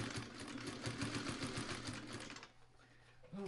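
A sewing machine runs a skinny quarter-inch basting seam straight over pins, a rapid even stitching rattle that stops near the end, leaving a quiet pause before a brief noise.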